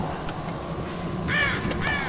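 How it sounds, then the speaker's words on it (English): Several crows caw in Tomb Raider (2013), harsh repeated calls arriving in two clear bursts over a steady ambient game background, fairly close and loud. "More crows!"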